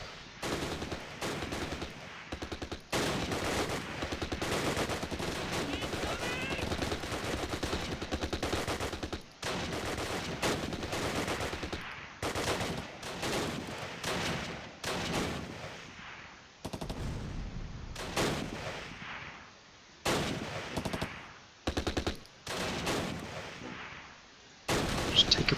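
Mortar blasts and gunfire from the Close Combat: Last Stand Arnhem wargame, a near-continuous loud barrage of repeated shots and explosions broken by brief pauses and clustered volleys.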